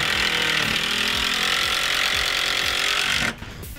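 A power driver runs continuously as screws are driven into wood, a steady loud whine that cuts off abruptly near the end.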